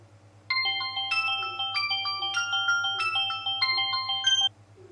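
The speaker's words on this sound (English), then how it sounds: "And then my mobile phone was ringing." A mobile phone ringtone plays a bright, repeating electronic melody for about four seconds over a low steady hum, then stops.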